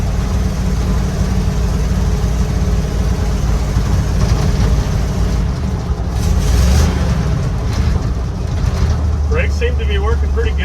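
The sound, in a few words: 1955 Chevy truck small block engine driving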